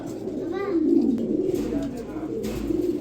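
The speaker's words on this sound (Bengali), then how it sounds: "কত সুন্দর একজোড়া গোল্লা কবুতর" A pair of pigeons coo in low, rolling calls close by, repeating over a murmur of background voices at a pigeon market.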